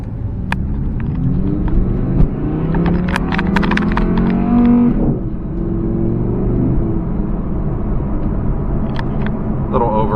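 A 2017 Audi R8 V10 Plus engine revs hard while driving, a loud, steady rumbling roar that climbs in pitch and then drops as the revs fall off, with road noise throughout.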